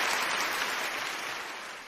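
Applause sound effect played over a live stream, a steady wash of many hands clapping, loud and dense throughout, easing slightly toward the end with no voices.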